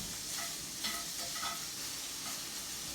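Pork frying and rendering its fat in a pan for carbonara, giving a continuous close crackling sizzle with faint pops and light stirring scrapes throughout.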